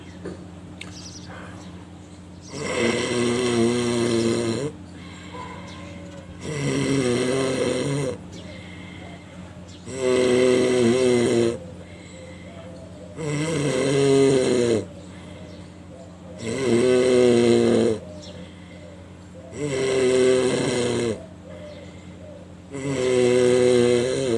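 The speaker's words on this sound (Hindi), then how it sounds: "जब गला बंद होगा यहाँ पे खर्राटे जैसी आवाज़ होगी आपकी" Seven slow, rhythmic rasping breaths of yogic breathing with a closed throat, with a snore-like throaty rattle, each several seconds long, separated by quiet pauses.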